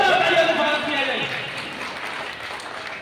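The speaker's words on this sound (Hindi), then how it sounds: "ऐसी महान शख्सियत के लिए जोरदार तालियों से स्वागत किया जाए।" Applause from a crowd at a birthday celebration for Dr. Ambedkar's 134th birth anniversary, held in the Jal Kal department office in Agra. A dense, steady patter fills the whole stretch and slowly eases off, with a voice near the start.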